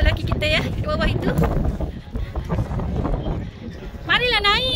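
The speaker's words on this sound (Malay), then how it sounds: "Oh, angin kat sini kuat ya." Strong gusting wind buffets the microphone on a hanging bridge at Raghdan Park in Al Baha, a rough low roar under excited voices that talk throughout.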